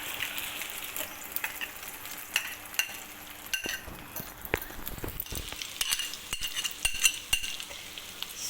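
A potato omelette fries quietly in a pan, soft steady sizzling with scattered clinks and scrapes from a utensil, fairly faint and without talk.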